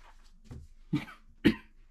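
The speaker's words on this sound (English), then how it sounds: "As you can tell with the cough right there" A few short coughs from a man who is sick, in quick succession, close and fairly soft, growing a little stronger toward the end, with no talking.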